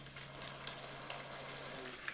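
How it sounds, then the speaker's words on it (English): Pork crackles faintly in a pan as sauce is added for asado de puerco. The quiet, steady sizzle sits over a low electrical hum, with small pops scattered throughout. "We're adding the sauce and this is gonna sizzle and smoke and bubble"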